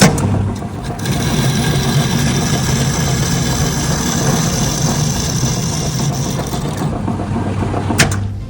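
An STvega VML H150 peeling machine for pumpkin, pineapple and melon runs with a steady mechanical whine and hum, loud and close, starting abruptly and cutting off near the end with a click.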